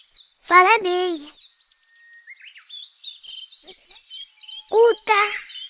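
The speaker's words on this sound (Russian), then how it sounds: "Воробей." A sparrow gives a run of quick, bright repeated chirps, clear and fairly close. Short spoken voices come before and after the chirping.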